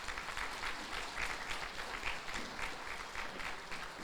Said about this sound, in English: Please join me in a round of applause for these committee